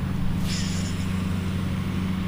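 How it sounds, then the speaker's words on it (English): Shimano Aldebaran baitcasting reel spool spinning during an outdoor cast, a brief high whirring zing near the start that fades within about half a second over a steady low rumble of nearby traffic. "I'm gonna zing it since it's kind of quiet. Let you guys hear those spool bearings."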